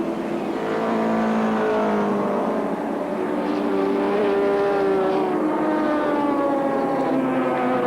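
Group C touring cars race at Sandown Raceway in 1984, engines wailing loudly with rising and falling pitch sweeps as several cars accelerate and shift through gears.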